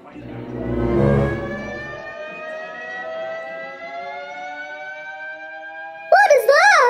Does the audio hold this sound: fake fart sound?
no